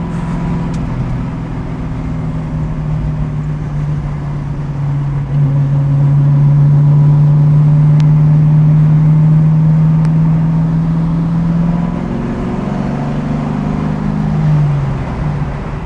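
A 1967 Pontiac Firebird engine on a first drive: a loud, steady engine drone heard from inside the car that climbs slowly in pitch as the car speeds up, then eases off near the end.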